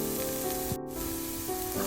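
Ivy gourd stir fry sizzling steadily in a pan over medium heat, a continuous close frying hiss with a brief stir partway through.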